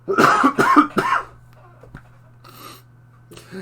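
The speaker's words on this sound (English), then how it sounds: "Sorry, that cough." Three harsh, loud coughs in quick succession from one person close by, followed by quiet breathing and a faint throat sound.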